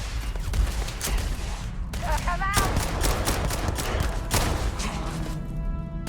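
Gunfire from attacking raiders in Starfield, rapid overlapping shots and bursts close up, with a short electronic chirp mid-way and a voice partly under the shooting.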